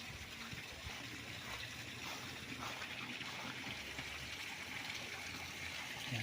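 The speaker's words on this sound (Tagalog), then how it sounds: "So, dito tayo sa may sapa." Faint, steady babble of a creek flowing beside a small farm property in Majayjay, Laguna, a soft continuous trickle and gurgle at low level with no clear voices.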